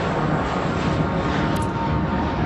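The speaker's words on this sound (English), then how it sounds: "Blue Star 775, cleared for takeoff, runway 26 left." An airliner takes off in the airport game Airport Madness Vancouver, a steady, loud broadband engine roar that holds evenly throughout with no voices.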